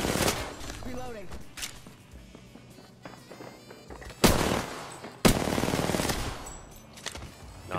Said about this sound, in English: I'm just aimlessly shooting